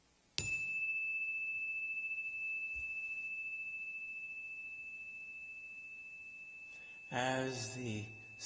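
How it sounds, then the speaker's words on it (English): A single struck bell gives one clear, pure ring that sustains and slowly fades over several seconds, followed by a brief voice at the end. "As the sound of the bell fades away"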